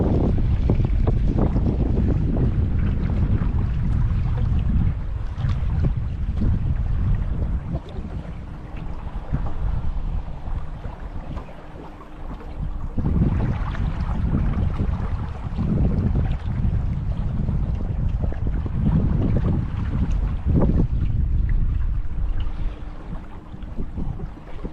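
Wind buffeting a tour boat on the water near Hoover Dam, a loud, gusty rumbling roar against the microphone that swells and dips in waves, with no talking.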